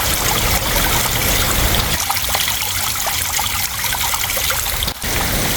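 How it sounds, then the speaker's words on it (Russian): Water trickles and drips steadily from a waterfall on a Madeira hiking trail, a dense continuous patter close by with faint individual drops, no voices. "Вот послушайте, какой здесь звук. Как будто бы апрельская капель."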